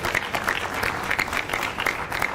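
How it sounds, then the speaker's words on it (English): Applause from an audience at a city council press conference on a community benefits ordinance, steady and dense for a couple of seconds with no talk over it. "Let's give Councilwoman Santana a round of applause."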